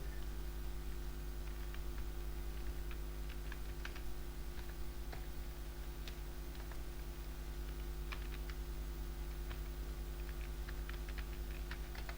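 Soft computer keyboard typing while a password is entered to set up an ethical hacking lab, an irregular run of light clicks over a steady electrical hum, fairly quiet and without speech.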